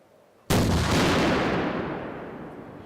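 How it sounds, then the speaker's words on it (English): An M3 Carl Gustav recoilless rifle fires a live round: one sudden, very loud blast that fills the whole range, followed by a long rumbling decay that fades slowly over a couple of seconds. "It's called the M3 Carl Gustav recoilless rifle."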